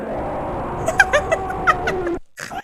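A synthesized scream from the 1983 Sinistar arcade game, a warbling electronic cry with wavering pitch that rises and breaks off abruptly, followed by a brief buzzy fragment.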